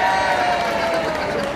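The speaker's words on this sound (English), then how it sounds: "Let's have a cheer this side then." A crowd cheering at the Crufts dog show during a Good Citizen dog display, a loud, dense roar of voices and whoops that holds steady for the whole moment.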